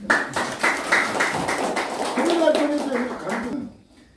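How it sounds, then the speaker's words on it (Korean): Lecture audience applauding two honored guests: a short burst of crisp, fairly close hand claps from a modest crowd, lasting about three and a half seconds before trailing off into quiet. "이분 두 분을 위해서 박수 한번 칩시다."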